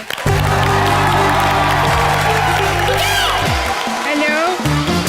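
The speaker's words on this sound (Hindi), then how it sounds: "जोरदार तालियों के साथ स्वागत कीजिए अनीता और मुबीन का" A television comedy studio audience applauds and cheers to welcome guests, loud dense clapping and whoops over playing music with a rising whoosh effect, sustained for the whole stretch.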